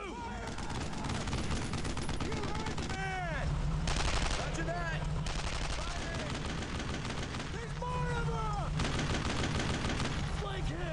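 Gunfire in the World War II video game Brothers in Arms: Road to Hill 30, dense loud bursts of automatic and rifle fire running continuously, with game voices and sound effects mixed in.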